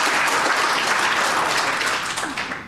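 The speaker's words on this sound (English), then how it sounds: "let's start us off with a clap on that one" An audience bursts into loud, dense applause at a mayor's public signing of housing levy legislation. Many hands clap hard and steadily throughout, close and sustained, with no talk over it.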